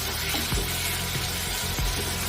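Okra sizzling steadily in a hot pan over a raised flame, with a few soft scraping thumps from stirring breaking through the continuous frying hiss.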